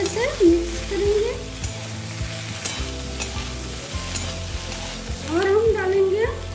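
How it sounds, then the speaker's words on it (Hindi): Onions and capsicum are stirred in a hot pan for restaurant-style chilli soyabean, a steady sizzle with scraping stir strokes, close and moderately loud, and faint voice-like tones drifting over it. "अब हम इसमें डालेंगे प्याज। इसे भी अच्छे से मिक्स करेंगे"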